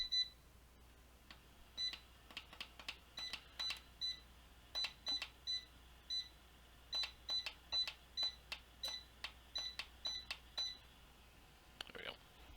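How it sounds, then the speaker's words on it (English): Room heater powering on with a long series of short, high electronic beeps, evenly spaced and fairly faint in a quiet room, ending with a brief burst. "I'm gonna turn my heater on, so it's gonna beep for a little bit."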